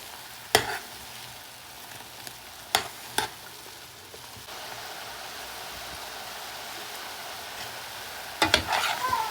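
Homemade aloe vera hair oil heating in a pan on the stove, a steady low frying hiss with a few sharp clicks and taps from stirring, close and fairly quiet, with no talking.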